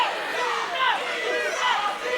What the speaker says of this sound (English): You hear the crowd getting behind CW, trying to wheel him back into this match